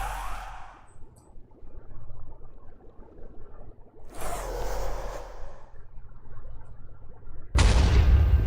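Explosions in the Minecraft video game sound as three separate booming bursts spread over several seconds, the last one loudest and abrupt, with quiet gaps between.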